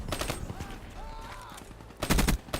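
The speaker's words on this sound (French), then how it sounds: "tant qu'on appuie sur le bouton, les rafales elles s'enchaînent" An XR-2 rifle fires in a video game, first a rapid burst near the start, then a stretch of quieter game sounds and tones, then a second loud sustained burst toward the end.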